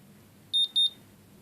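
A blood glucose meter used on a cat at home gives a short error signal: two quick, bright electronic beeps in a row, close and clear against a quiet room.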